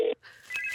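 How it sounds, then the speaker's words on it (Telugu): A telephone rings briefly in a single short burst, loud and close, then fades into a quieter electronic tone without any voices. "ఇక్కడే రింగ్ అవుతుంది"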